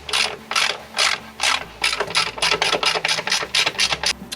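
A ratchet tightens the clutch housing liner bolts on a Can-Am Maverick X3, close and loud: a few slow, separate strokes, then a quicker train of crisp, rhythmic clicks.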